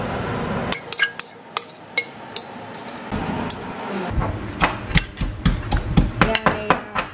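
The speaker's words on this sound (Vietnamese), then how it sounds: "Múc gỏi cho ra đĩa." Utensils clinking and scraping against dishes as Vietnamese sweet-and-sour chicken salad (gỏi gà) is scooped onto a plate, a run of sharp close taps and clinks growing busier toward the end.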